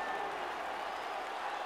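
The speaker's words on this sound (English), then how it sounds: "The crowd not very happy" Boxing arena crowd at a Leon Spinks versus Evander Holyfield heavyweight bout reacting after a round, a steady dense wash of clapping and murmuring noise with no break, fairly close and even in level.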